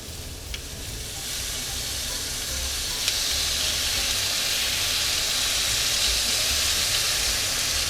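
Vegetables stir-fry with garlic and sweet and sour sauce over high heat, a loud continuous sizzling hiss that builds slightly, with an occasional faint clink of the utensil.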